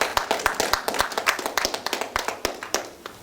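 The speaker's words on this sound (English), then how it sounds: "Let's give Brother Frank a round of applause" Small audience clapping at a mosque gathering for Brother Frank, a cluster of distinct, fairly close hand claps in an uneven rhythm lasting a few seconds, not a dense roar.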